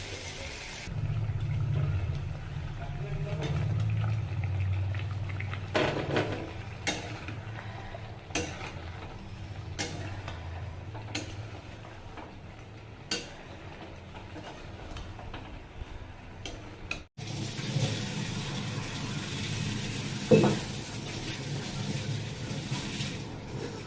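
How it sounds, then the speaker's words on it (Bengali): Potatoes and pointed gourd frying in a pan, a steady low sizzle running throughout with occasional clinks and scrapes of a utensil against the pan. "এখন আলু আর পটলটা ভেজে নিচ্ছি।"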